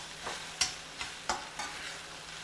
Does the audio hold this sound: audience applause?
no